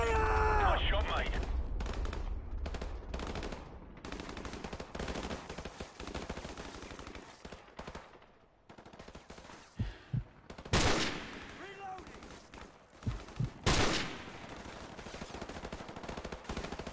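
Gunfire rings out in a shooter video game, loud repeated shots and bursts with a couple of sharp, heavy blasts late on, set against steady background game noise.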